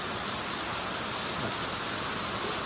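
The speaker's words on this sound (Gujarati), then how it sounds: "વરસાદ સારો ચાલુ છે ફૂલે ફૂલ વરસાદ ચાલુ છે" Heavy rain comes down in a dense, even hiss that stays constant from start to finish, with no voices.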